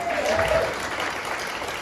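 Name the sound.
audience applause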